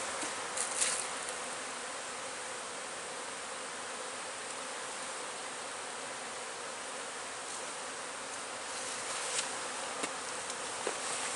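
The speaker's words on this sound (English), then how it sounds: "A few bees on the bottom of the feeder." A steady swarm of bees buzzes continuously up close around a hive feeder, a dense droning hum with a few individual insects passing nearer.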